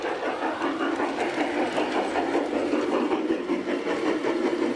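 A model train runs along a miniature layout's track, giving a steady, continuous rolling rumble with a faint clickety rhythm, close and unbroken throughout with no voices.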